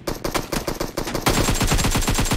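Automatic gunfire in the video game PUBG, loud rapid bursts of shots that stop briefly and then resume as a fast, even stream of rounds, close and alone.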